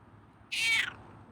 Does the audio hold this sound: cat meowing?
yes